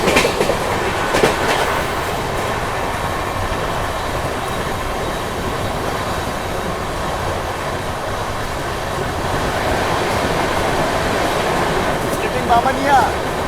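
Paschim Express passenger train running, heard from on board as a loud, continuous rumble and clickety-clack of wheels on rails, with brief squeals and muffled voices in the carriage.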